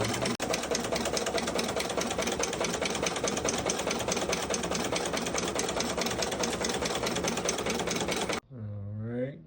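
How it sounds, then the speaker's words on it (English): A sewing machine runs steadily and fast, stitching a double seam along the edge of a pencil bag. The rapid mechanical whirr continues for about eight seconds, then stops abruptly and a voice is briefly heard. "I'm going to add a little double seam on the edge just to make it a little bit prettier"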